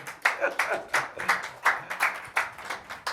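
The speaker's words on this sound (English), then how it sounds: "Clap for yourself." An audience at a motivational talk in Lagos claps for themselves in loose rhythmic bursts, each group of claps rising and falling in quick succession, close and fairly loud.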